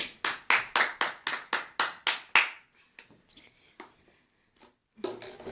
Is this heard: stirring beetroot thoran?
no